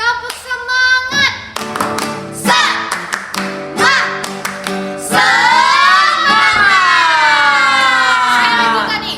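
Children at a Sunday school service doing the tepuk semangat spirit clap, sharp rhythmic hand claps mixed with loud chanted voices, close and energetic, rising into a sustained shout toward the end.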